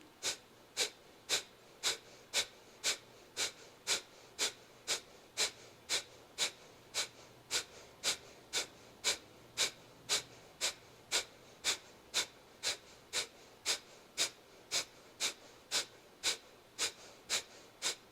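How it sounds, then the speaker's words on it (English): Rapid, rhythmic breathing during a yoga core session, with forceful nasal breaths repeating about twice a second. The sharp, evenly spaced puffs run steadily throughout and sit close and moderately loud. "Inhale. Exhale."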